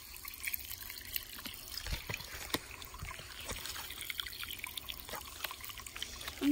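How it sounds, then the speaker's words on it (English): River water rushing and trickling in an animated dinosaur scene, a faint steady watery wash with small splashy bursts and drips throughout. "The river is rushing a lot faster now."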